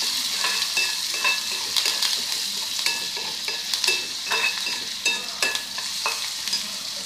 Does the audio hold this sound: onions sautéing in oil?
yes